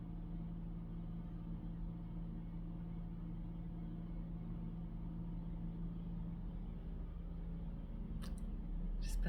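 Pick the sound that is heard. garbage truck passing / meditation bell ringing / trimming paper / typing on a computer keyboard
garbage truck passing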